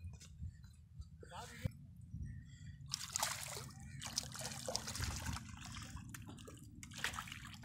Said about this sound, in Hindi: इसको हम रिलीज करने लगे हैं पानी के अंदर।